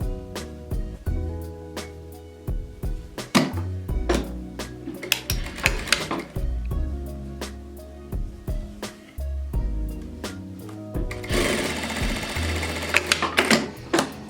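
A sewing machine stitches across thick fabric seams on a storage container, its rapid mechanical whirr running in bursts with clicks and thumps between, close and loud, rising into a longer steady run near the end.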